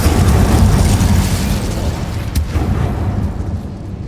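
A loud, roaring fire-spell blast from Incendio in a Hogwarts video game fills the space with a dense, sustained whoosh and rumble that fades gradually, with a brief sharp crack midway and no talking.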